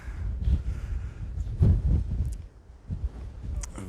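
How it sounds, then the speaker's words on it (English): Gusty wind buffets the microphone on a cold, exposed mountain summit in the Glyders, coming in low rumbling bursts that rise and fall close up. "Very windy on the top here again."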